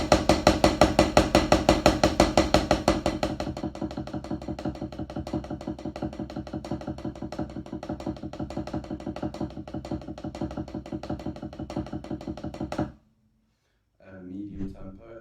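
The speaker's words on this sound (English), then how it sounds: "the first exercise that I'm going to do is single strokes to double strokes to a paradiddle to an inverted paradiddle and then to an outward paradiddle" Slow drum rudiments on a practice kit or pad: steady single strokes moving into double strokes and paradiddle variations, with even, dense percussive hits that fade to a brief pause before a little talking starts.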